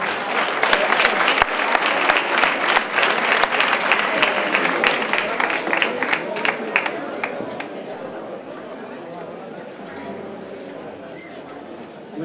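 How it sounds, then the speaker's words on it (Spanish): Loud applause from the audience at a fandango singing contest in Aroche fills the room, a dense burst of clapping that thins and fades toward the end. "un fuerte aplauso"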